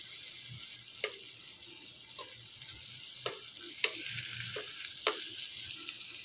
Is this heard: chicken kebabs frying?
yes